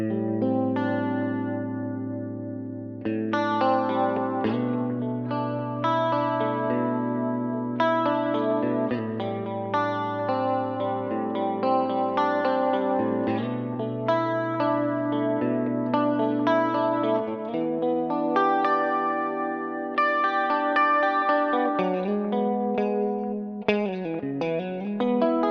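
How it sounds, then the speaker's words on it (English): Clean electric guitar played through a Marshall Origin 50 head with carbon copy delay, reverb and chorus: sustained chords and melodic lines ring out alone, shimmering and echoing, with no voices. "some clean sound without the overdrive, a little bit of carbon copy delay, the reverb on obviously, and then I'm going to put a little bit of chorus on"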